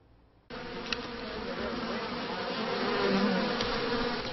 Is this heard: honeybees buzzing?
yes